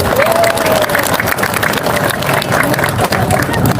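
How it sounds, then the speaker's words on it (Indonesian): An audience at a neighborhood inauguration event in Jakarta bursts into sustained applause, dense clapping and cheering from a crowd, loud and continuous throughout. "Boleh kita beri tepuk tangan untuk mereka."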